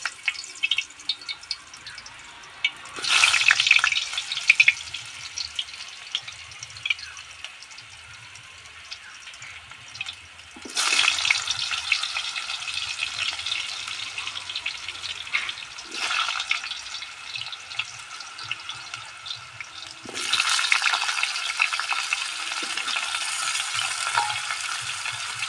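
Potatoes drop into hot oil for a Bengali-style egg curry, giving three loud bursts of crackling sizzle that each ease into a softer fry, with quiet clatter in the gaps between them.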